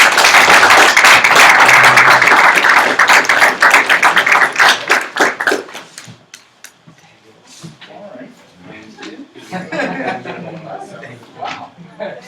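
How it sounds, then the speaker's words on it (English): An audience at an award ceremony bursts into loud, dense clapping that thins into scattered claps, then gives way to chuckles and murmured chatter. "let's have a round of applause"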